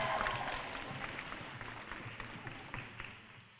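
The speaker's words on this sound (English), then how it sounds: "can we have a big round of applause for our umpires" An indoor crowd claps for the umpires at a schools netball league event, strongest at the start and then thinning to scattered claps that fade toward the end.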